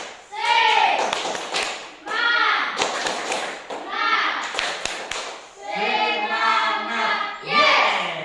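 A classroom of children claps and chants a rhythmic Indonesian spirit-clap routine together, with sharp bursts of synchronized claps and thumps between loud, sing-song group voices.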